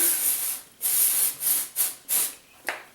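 Several bursts of dry shampoo sprayed close up along the hair roots and hairline, each a bright aerosol hiss in a quick uneven rhythm, with a shorter final puff.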